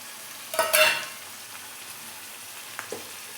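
Fried cauliflower and potato in a pan as green chili and onion go in, one loud crackling burst and sizzle followed by a quieter steady fry and a small second flare.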